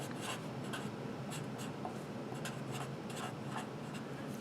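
A pen or marker scratches steadily across a writing surface as a calculus problem on discontinuity is written out, short strokes repeating close up with no talk.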